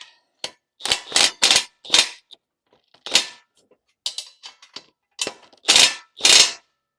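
Bolts being tightened on a replacement cylinder for an engine hoist, heard as close, irregular bursts of sharp mechanical clicking and ratcheting separated by short pauses, with no talking.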